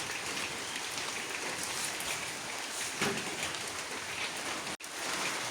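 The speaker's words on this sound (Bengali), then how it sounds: "এদিকে হিউজ পরিমাণে বৃষ্টি পড়তেছে" Heavy rain pours down in a steady, dense hiss in Lalmonirhat district, Bangladesh, drops pattering on surfaces without letup, with one brief break near the end.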